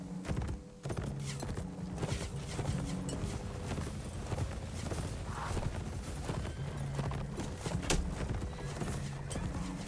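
Cavalry horses in the Mount and Blade video game, steady clip-clopping hooves amid a dense battlefield din, with occasional whinnies and a continuous rumble of movement throughout.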